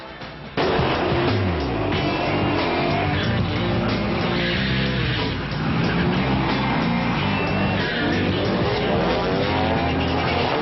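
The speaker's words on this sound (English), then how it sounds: "Every weekend at strips like this around the country, owners come to push their highly modified street cars to the limit over a quarter mile" Highly modified street cars drag racing down a quarter-mile strip at California Speedway in Fontana, a loud continuous engine roar with revving and tire noise that stays steady throughout after a quieter opening.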